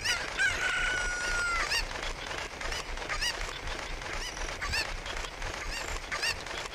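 Cuccos, the chickens of Zelda: Ocarina of Time, give a loud crowing call at the start followed by repeated sharp clucks and squawks at a steady pace, with no talking.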